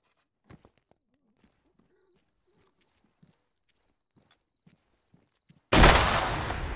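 Soft footsteps and faint movement give way to a sudden loud frag grenade explosion near the end, a sharp close blast with a rumbling tail in an Arma 3 firefight.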